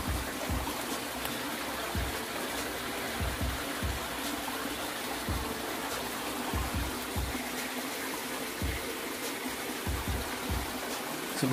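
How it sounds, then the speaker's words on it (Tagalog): A small stream flows and trickles steadily in a continuous gentle rush, with faint soft knocks scattered throughout. "Ang lakas ng daloy ng tubig."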